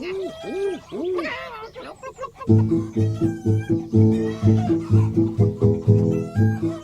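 A flock of hens clucking in a busy commotion, rhythmic repeated clucks and calls close by, with a voice at the start.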